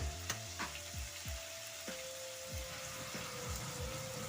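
Tomatoes sautéing in a pan for a prawn curry, a quiet, continuous frying sizzle with occasional soft clinks and thumps from stirring and a steady tonal hum beneath; nobody speaks.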